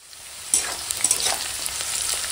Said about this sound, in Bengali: এখন চিচিঙেটা এরকম হালকা করে ভাজা হয়ে গেছে